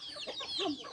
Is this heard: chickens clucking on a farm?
yes